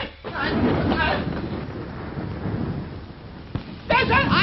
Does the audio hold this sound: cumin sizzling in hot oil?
no